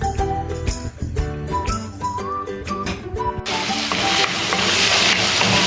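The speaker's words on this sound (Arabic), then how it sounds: "كي يتجمر لي كاع هذا البصل مع الطماطيس وتولي لاصوص خاطره، ندير عليه الفلفله تاعي" Onions, tomatoes and peppers frying in a pan, a steady sizzle that grows denser and louder toward the end under a fairly close, continuous hiss.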